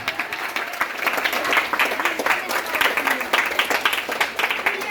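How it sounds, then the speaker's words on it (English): A crowd of students at a school announcement breaks into sustained, dense applause that holds steady and loud throughout, with some voices mixed in. "give him a big round of applause"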